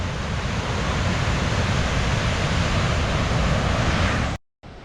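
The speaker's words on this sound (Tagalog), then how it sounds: "napakalakas po ng alon" Big ocean waves crash at White House beach, a loud, continuous wash of surf and wind roar filling the scene close by, cutting briefly to silence near the end.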